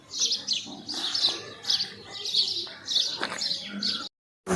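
Birds chirp and tweet in repeated bursts in a sunny village setting, fairly close and clear, with a short silent gap near the end.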